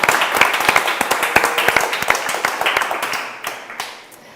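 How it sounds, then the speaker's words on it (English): Applause for an award winner at a virtual legal awards show, a few people clapping close by in a quick, loud patter that slows and fades out after about four seconds. "big round of applause"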